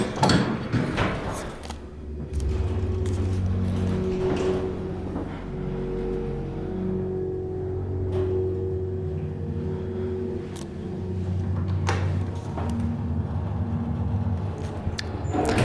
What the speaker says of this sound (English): Okay, let's hear the motor.